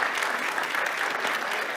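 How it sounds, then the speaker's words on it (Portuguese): Audience applause after a chef's cooking class, a steady dense wash of many hands clapping throughout, fairly near and even in loudness with no voices over it. "uma salva de palmas"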